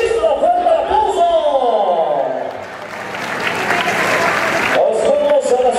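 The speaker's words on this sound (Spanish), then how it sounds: "fuerte aplauso" A rodeo crowd at a jaripeo in Ocuituco, Morelos claps and cheers in a broad wash that rises mid-clip, while an announcer's amplified voice talks over it before and after.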